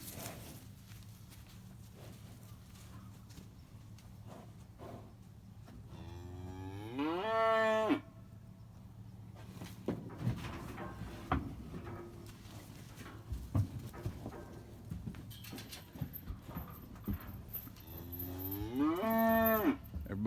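Cattle moo loudly in a few long drawn-out calls while young bulls are loaded up at a cattle auction, with hooves shuffling and thumping on the trailer between the bellows.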